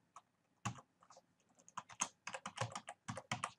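Quick bursts of keystrokes on a computer keyboard while typing an Excel formula, close and crisp, the clicks bunching into uneven runs with short pauses between them.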